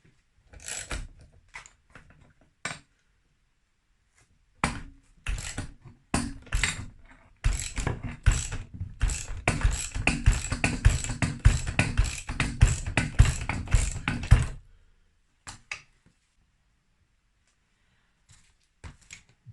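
Gear selector mechanism on a 2001 Yamaha DTR 125 two-stroke engine being worked by hand during a teardown, giving sparse metallic clicks and ratcheting taps that thicken into a dense clattering run before thinning back to occasional clicks.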